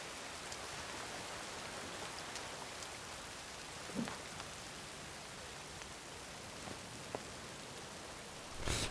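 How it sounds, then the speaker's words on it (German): Steady rain in the survival video game The Forest, an even hiss of falling drops with a few faint soft taps and a brief louder rustle at the very end, with no voices. "Es regnet! Es regnet!"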